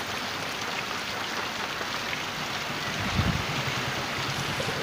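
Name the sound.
rain falling during a storm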